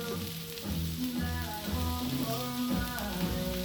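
Beef burger patties sizzle on a BBQ grill in a constant, moderately loud hiss that holds evenly from start to finish, with no talking over it.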